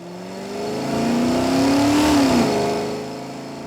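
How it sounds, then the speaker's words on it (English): A V8 engine note over a passing Ford Mustang, rising in pitch as the car draws near, peaking loud, then dropping as it pulls away, with a rumbling revving tone throughout. "And now if we dub the sound of a V8 over the same clip"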